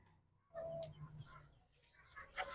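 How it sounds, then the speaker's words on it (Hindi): Pet pigeons in a home loft coo softly and close by, with low throaty murmurs and small rustling movements in a quiet space. "ये मेरा फेवरेट वाला कबूतर है"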